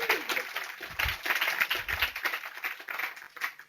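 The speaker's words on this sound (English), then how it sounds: "can we have a round of applause?" Audience at a software testing conference applauding, a sustained wash of many hands clapping at close to moderate distance, steady through the whole stretch with no voices over it.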